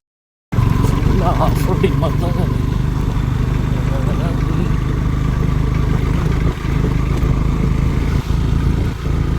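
A vehicle engine drones steadily and loudly at night on a rough off-road stretch in the Kolli Hills, with clattering bumps from the uneven surface and a few thuds toward the end.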